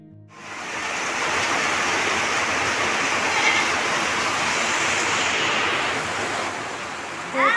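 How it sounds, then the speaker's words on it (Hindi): Heavy rain falls in a dark village at night, a dense, steady, close roar of water that holds evenly throughout with no voices. "रेन बहुत तेज पानी गिर रहा है"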